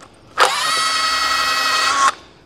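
A rotary hammer bores with a carbide (widia) bit, giving one loud, close, steady whining burst of under two seconds that starts and stops abruptly, with no talk.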